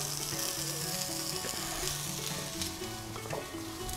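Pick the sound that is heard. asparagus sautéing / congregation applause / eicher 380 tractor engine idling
asparagus sautéing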